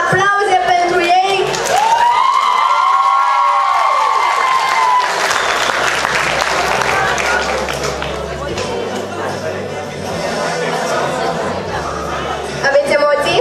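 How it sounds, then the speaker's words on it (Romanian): Loud applause with cheering and whoops from a crowd in a hall as first-year students enter a freshmen ball, steady and dense throughout, with voices shouting over it and a rising tone early on. "Aplauze pentru ei!"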